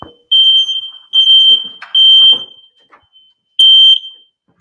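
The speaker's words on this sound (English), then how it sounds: "that fire detector, smoke detector is very sensitive. And literally every time I cook, whether something's burning or not, it goes off" Kitchen smoke detector shrieking during cooking, a loud piercing high-pitched alarm in four long bursts with short gaps, a few faint clatters between them and no talking.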